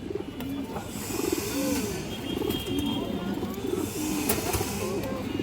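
Pakistani high-flyer Kaldom pigeons coo in repeated low, rolling phrases, several birds overlapping close by against steady background noise, with occasional sharper calls.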